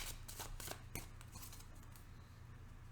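A tarot card deck being shuffled by hand: a few soft, quick riffling bursts near the start, then quieter handling over a low steady background hum.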